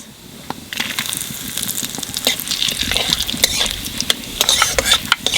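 Cumin seeds, bay leaf, cinnamon, cloves and cardamom dropped into hot oil for a vegetarian mutton curry with potatoes burst into a loud, close crackling sizzle that builds and keeps popping, with no talk.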